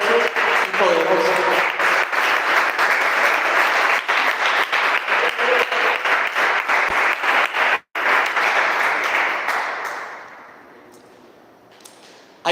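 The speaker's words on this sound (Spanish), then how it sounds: "Dale un aplauso al Señor" A church congregation applauds in sustained, dense clapping that fills most of the stretch, briefly breaks off, then thins out and fades toward the end.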